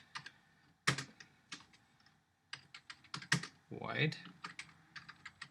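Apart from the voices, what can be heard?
typing code on a computer keyboard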